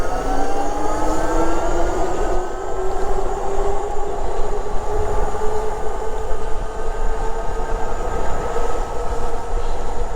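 Lectric XP e-bike with dual motors accelerating from a standstill on full throttle, a loud rising motor whine over heavy rushing wind noise, continuous and close.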